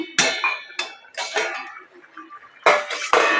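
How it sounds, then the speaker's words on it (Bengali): A lid is lifted off a pot of simmering greens, giving several loud, close metallic clanks and rattles in separate bursts with short pauses between them. "তো ঢাকনাটা খুলে দেখব"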